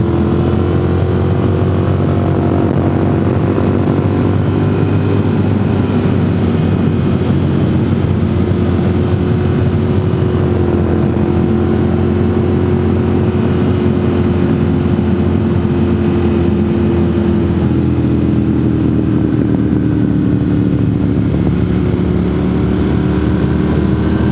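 A motorcycle on Metzeler tires cruises US28 through North Carolina, its engine a loud, continuous close drone with a slowly shifting pitch and steady wind rush throughout.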